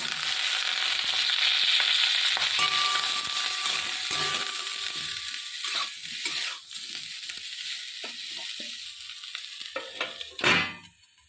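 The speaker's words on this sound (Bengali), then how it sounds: "নুন দিল দিয়ে ফুলকপিগুলো একটু ভেজে নাও" Oil hisses and sizzles steadily as cauliflower fries in a pan, fading later into scattered crackles, scraping stirs and a clatter near the end.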